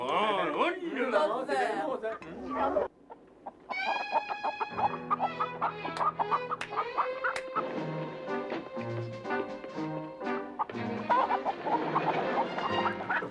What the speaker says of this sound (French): Il y a un poulet?